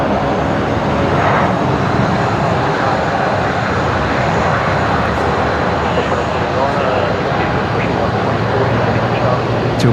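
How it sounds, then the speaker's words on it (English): A Qantas Embraer 190 jet lands at Brisbane Airport at night, arriving from Canberra: a loud, continuous broadband engine roar that stays steady throughout, with voices talking underneath. "we do have Qantas 1908 just touching down. It's an Embraer 190 arriving from Canberra."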